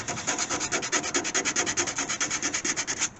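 Old Bondo body filler on an AMC Gremlin car body is scuffed by hand, giving close, rhythmic back-and-forth rasping strokes at a quick steady pace with no talk.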